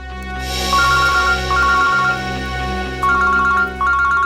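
A phone rings with a repeating electronic ringtone in bursts, loud and close, over a steady droning background.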